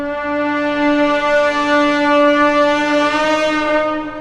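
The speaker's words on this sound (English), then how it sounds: "I accidentally hit it against the wall, and that sound was eerie" An ancient brass acoustic tuner in a video game, struck against a wall, rings out as a sustained, eerie metallic tone with rich overtones that swells slightly and holds for several seconds.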